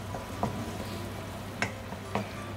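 Garlic and onions fry in a pan for pork adobo, a steady soft sizzle broken by a few faint ticks of a utensil, with no talking.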